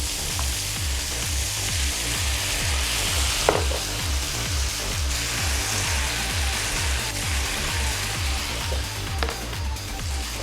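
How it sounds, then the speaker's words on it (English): Mixed vegetables, pineapple and mushroom sautéing in a pan, a steady even sizzle over a rhythmic low thumping background, with a couple of faint clinks, no voices. "this mixture will just saute for about 10 minutes until the pineapple is thoroughly cooked through"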